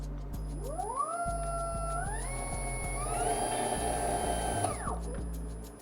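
A Nissan Leaf electric motor driven by a Zombieverter controller spins up with a rising whine that climbs in steps, holds steady, then winds down, while a steady ticking clicks underneath.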